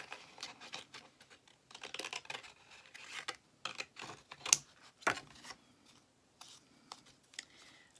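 Close, crisp snipping of scissors cutting through card: a series of short, sharp cuts in irregular bursts, with quiet pauses between them and no talking.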